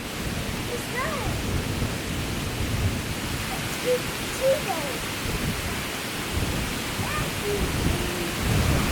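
Steady rain pours outdoors on Siargao Island in the Philippines, a dense continuous hiss from start to finish, with faint brief voices or calls surfacing now and then above the downpour.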